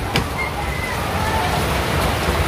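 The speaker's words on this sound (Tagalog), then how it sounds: "Lakas ng ulan." Heavy rain pours down in a dense, steady hiss that fills the scene evenly from start to finish, loud and close, with faint scattered sounds over it.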